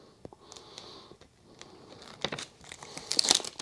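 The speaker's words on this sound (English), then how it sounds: "so we're just gonna go ahead and peel it in the corner." Protective liner being peeled back from a corner of flat glass window film, a soft crinkling that builds into sharper crackling bursts toward the end, close up and with no voices.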